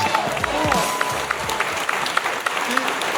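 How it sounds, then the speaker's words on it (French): Audience at a live French game-show taping breaks into applause, broad clapping mixed with crowd noise while someone talks over it throughout. "Applaudissez-vous."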